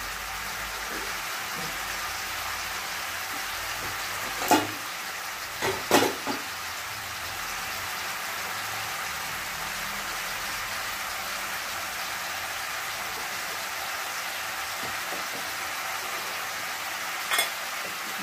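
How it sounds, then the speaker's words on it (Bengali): Onions fry in a pan alongside chicken for a do pyaaza, a soft continuous sizzle broken by a few sharp utensil clinks and stirring knocks. "এটা একটু ভাজা ভাজা হোক, এটাও পেঁয়াজটাও ভাজা হোক"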